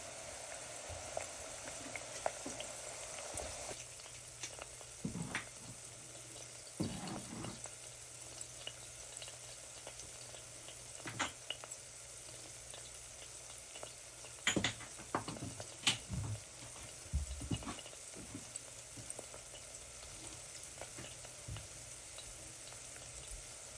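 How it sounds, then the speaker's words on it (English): Onions cooking gently in oil over low heat, a faint, even sizzle running throughout, with occasional soft scrapes and taps of stirring and a brief thump. "Now that we have the onions cut, we are going to start cooking them very gently in oil."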